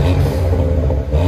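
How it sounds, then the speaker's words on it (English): A stock 2018 Ford Fiesta ST exhaust with original cat and resonator revving briefly, a loud, close low engine rumble held steady for about a second. "This is what it sounds like stock again."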